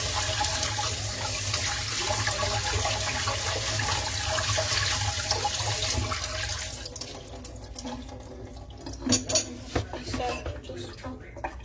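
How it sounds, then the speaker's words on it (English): Tap water runs steadily into a sink as food is rinsed under it, then stops, followed by light clinks of dishes nearby. "So just under the water here, just rinse it out"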